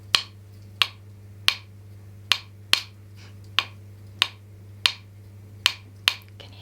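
Hand-carved wooden spoons knocked together in a steady rhythm, giving about ten crisp, evenly spaced clacks, quiet and close, over a faint low hum.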